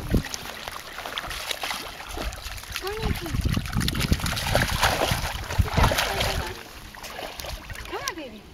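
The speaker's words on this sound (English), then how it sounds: "There goes Nico swimming." A dog swims in a lake at a beach, paddling and splashing in soft, irregular trickles close by, while a person talks excitedly over the water sounds.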